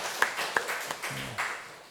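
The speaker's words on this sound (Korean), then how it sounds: "그리고 오늘 특송한 분들 위하여 박수하겠습니다." Clapping in a church for those who sang a special song at a prayer service, a fairly light, uneven patter of hands with several distinct sharp claps and a brief low voice murmur partway through.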